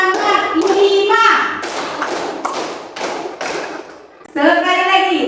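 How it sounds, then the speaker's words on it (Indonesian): A class of schoolchildren performs a rhythmic 'tepuk semangat' clapping chant, a fast run of sharp claps punctuated by a few group thuds, with children's voices chanting at the start and end. "1, 2, 3, tepuk semangat 5"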